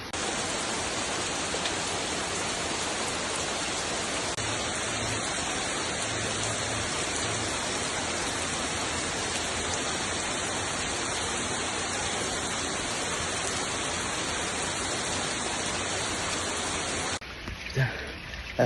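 Heavy tropical rain pours down in Bali in a dense, constant hiss that stays loud and even for most of the stretch, then cuts off abruptly near the end.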